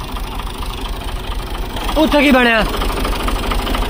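A tractor engine rumbles steadily at low pitch while the trolley is pulled out in a village yard, with a brief spoken exclamation rising over the engine partway through.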